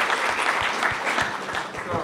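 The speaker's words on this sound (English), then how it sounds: "let's have a round of applause for them for both agreeing to this awesome talk" Audience applause after a lighthearted physics debate talk, a steady burst of clapping from a crowd lasting about two seconds without pause.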